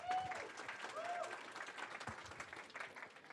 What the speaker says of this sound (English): Round of applause for Masaki,